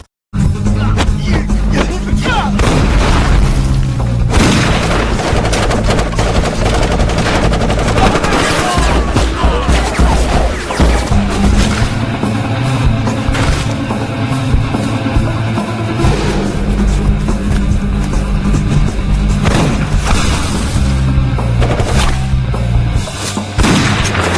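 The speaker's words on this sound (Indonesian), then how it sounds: "Inspektur Jun langsung menembaki anak buah Tony dan aksi menegangkan pun tak terhindarkan lagi" Gunfire from a Donnie Yen police action film comes in loud, dense volleys of shots and booms under a driving film score, continuous for the whole stretch, with no clear talking.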